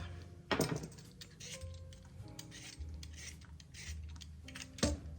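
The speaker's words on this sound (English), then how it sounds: "Got a bad spot there, just cut that off." A knife trims a bad spot off a potato, with a few faint scraping cuts and a couple of sharper clicks against the board, set against quiet kitchen background hum.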